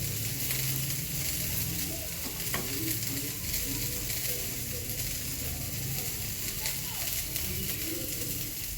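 Drained, soaked puffed rice tipped into a hot pan sizzles and crackles steadily, with occasional scraping stirs and a faint voice in the background.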